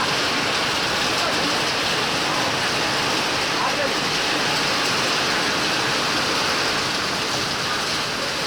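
Heavy pre-monsoon rain pours down at Jade in Soraba, Karnataka, a dense, steady roar of rainfall that stays loud and unbroken throughout.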